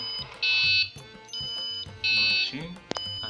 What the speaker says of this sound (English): it triggers the alarm on, and those are the indicators of the alarm